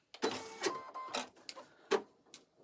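An embroidery machine stitches a placement line for an in-the-hoop vertical wallet, giving a few quick, close mechanical whirring bursts with short pauses between them.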